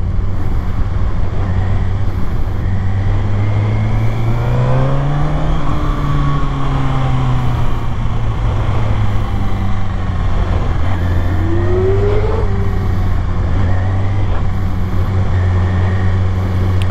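A Kawasaki ZX6R sportbike held in second gear on an uneven road, its close engine droning steadily throughout, the pitch swelling and easing as the throttle changes, with constant wind and road roar and no talk.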